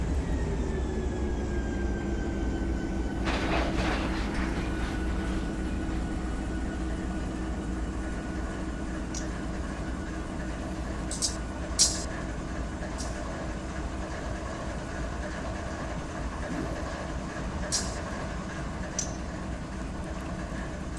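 A freight train in a train simulator brakes to a stop near Barstow. A steady low rumble runs under a long thin brake squeal, with a few brief hissing bursts near the end.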